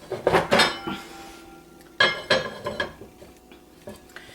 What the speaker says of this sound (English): Put the lid on.